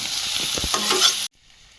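Brahmi greens fry with whole cumin seeds and old garlic in a pan, giving a loud, steady broadband sizzle with stirring clatter that cuts off abruptly about two-thirds through, leaving faint background hiss.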